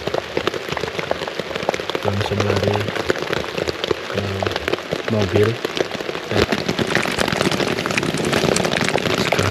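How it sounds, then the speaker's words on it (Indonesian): Heavy rain falling on a tent at night while camping in bear country, a dense continuous patter close by, with a person speaking briefly over it. "semalaman hujan,"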